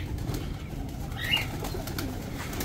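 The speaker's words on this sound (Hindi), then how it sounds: "ये देखें, कबूतर मेरे ऊपर आते साथ ही मेरे सारे कबूतर एक्टिव हो जाते हैं ऐसे।" Pet pigeons in a rooftop loft stir and grow active, with low cooing and one brief higher call over a steady, noisy background hum.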